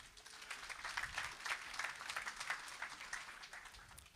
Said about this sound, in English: So please, a round of applause to all of them.